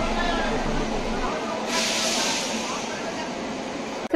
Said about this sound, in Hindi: आप देख रहे हैं हमारी ट्रेन का अराइवल जिसका लोकोमोटिव है WAP-7 वडोदरा शेड का।